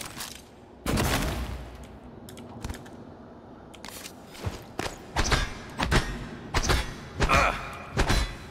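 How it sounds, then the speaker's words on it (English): Glue cannon from the 2017 game Prey firing a series of short, punchy bursts, irregularly spaced over several seconds against a quiet ambient background. "actually, what I could do is I could use the glue cannon."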